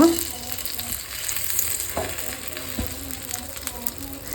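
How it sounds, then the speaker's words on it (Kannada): Bread and butter toasting in a pan sizzle and crackle steadily at moderate volume, with a few sharp taps and scrapes of a utensil and no speech. "ಈ ಥರ ಬ್ರೆಡ್ ಮತ್ತು ಬಟರ್ ಎರಡು ಹಾಕಿ ನೀಟಾಗಿ ಟೋಸ್ಟ್ ಮಾಡ್ಕೊಳ್ತೀನಿ"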